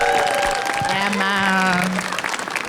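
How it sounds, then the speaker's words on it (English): Applause from an expo audience after the first part of a panel with the Arcane cast, a steady wash of clapping that continues under a voice and tails off slightly at the end. "let's have a round of applause for the first part of this panel"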